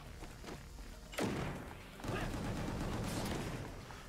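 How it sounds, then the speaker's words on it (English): Grenade explosions in a shooter video game, two heavy booming blasts roughly a second apart, each followed by a long rumbling tail under dense background noise. "Stop throwing grenades at me."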